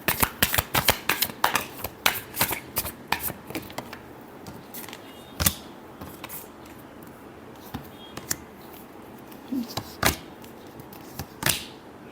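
A deck of tarot cards riffled and shuffled by hand near the mic, with quick bursts of crisp flapping snaps, a few pauses, then final sharp riffles, no voice.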